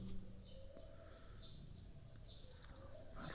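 Sparrows chirp outside around 6:30 in the early morning, with faint, distant, scattered tweets over a steady background hum.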